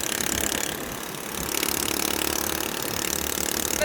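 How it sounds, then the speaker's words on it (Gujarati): A motorcycle engine on a dusty desert track runs steadily at close range, a continuous rumbling drone with slight rattling that swells a little partway through. "અને મારા મિત્ર મારા ખાસ જીગરી જાન એવા રાજેશભાઈ બાઇક ચલાવશે."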